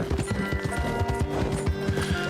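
Horse hooves clip-clopping in Red Dead Redemption 2, a steady galloping rhythm of close, repeated thuds running through the whole stretch over a busy game soundscape.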